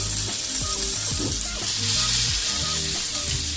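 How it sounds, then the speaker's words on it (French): Loud, steady sizzling of onions frying in burger meat juices in a pan, a constant crackle with occasional stirring and scraping sounds. "Ça facilite la cuisson de l'oignon"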